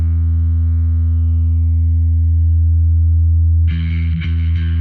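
An electric guitar through the omega side of a distortion pedal sustains a loud, buzzy, treble-heavy chord, then a fresh strum bursts in brighter and harsher near the end.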